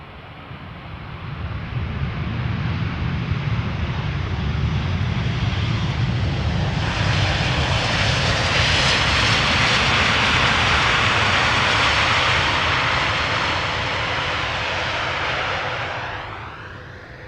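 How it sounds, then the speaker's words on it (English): Embraer 195 E2 jet arriving at Schiphol from Berlin, its engine roar building, peaking loud at mid-pass, then fading away as it goes by, heard alone without voices. "The E2 Embraer arriving from Berlin."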